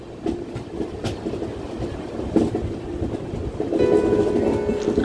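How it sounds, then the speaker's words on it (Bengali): The Visakhapatnam–Kirandul passenger train runs on rails with a steady rumble and scattered wheel clicks, heard close from the open doorway, swelling into a louder humming rush toward the end. "বিশাখাপত্তনম কিরণডুল প্যাসেঞ্জার ট্রেনে।"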